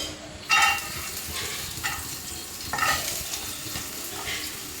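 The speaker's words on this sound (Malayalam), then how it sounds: "ഇനി നമുക്ക് തേങ്ങ അതുപോലെ തന്നെ ചെറിയ ഉള്ളി ഇതിലേക്ക് ഇട്ട് കൊടുക്കാം" Grated coconut and small shallots fry in coconut oil in a pan for a chicken curry, giving a soft, steady sizzle. Several stirring scrapes come in bursts over the sizzle.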